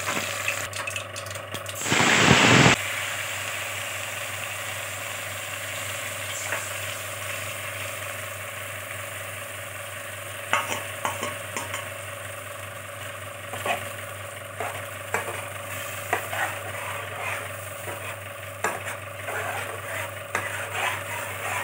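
Cinnamon, cloves and whole spices hit hot oil for a mutton pepper gravy with a loud burst of sizzling. A quieter, steady sizzle follows, with scattered taps and scrapes of stirring.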